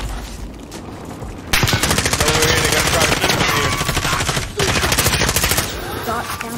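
Sustained automatic gunfire in Call of Duty: Warzone, loud rapid rattling bursts that carry on for several seconds with a brief break in the middle, and distant shots and quieter game noise before the firing starts.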